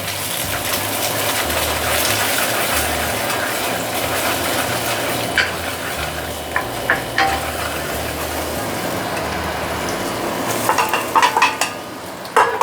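Egg seasoned with light soy sauce fries in a hot pan for chow mein, a loud steady sizzle with stirring scrapes and clicks picking up toward the end.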